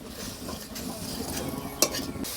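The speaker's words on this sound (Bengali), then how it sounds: "শুটকি আর মশলা আমি ভালো করে কষায় নিব একসাথে।" Dried rita fish and spices sauté in a pan over a rural cooking fire, a faint steady sizzle under quiet stirring scrapes and one brief metallic clink.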